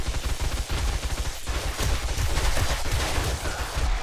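Rapid bursts of gunfire in the survival video game 7 Days to Die, dense and continuous across the whole stretch, loud and close with no talk over it.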